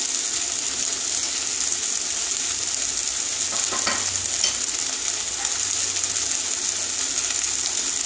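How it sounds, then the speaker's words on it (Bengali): Nuts frying in a pan for a kaun rice pulao, giving a dense, steady, close sizzle and hiss that carries on evenly throughout with no voices. "এবারে বাদামগুলো দিয়ে দিচ্ছি।"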